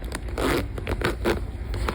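Zipper on the Velcro-lined removable pocket of a Fender FE620 gig bag, pulled in several short close rasping strokes with crackly scraping between pulls.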